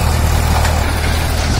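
Powertrac 439 Euro tractor pulling a cultivator through wet soil, its diesel engine a steady, loud, close drone without breaks.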